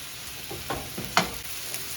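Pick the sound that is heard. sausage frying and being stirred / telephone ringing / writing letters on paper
sausage frying and being stirred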